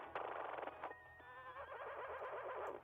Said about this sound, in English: This is necessary horse noise.